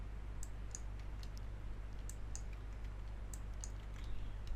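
A computer mouse clicks several times while someone works on a website login page, faint, sharp taps over a steady low hum.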